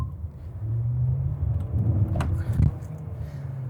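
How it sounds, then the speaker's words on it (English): A Denza Z9 GT dual-mode hybrid car pulls away from traffic lights, heard from inside as a steady low rumble of road and drivetrain noise that swells gently through the acceleration, with no sharp engine roar. "we are now driving Denza Z9 GT and acceleration from the traffic lights at once"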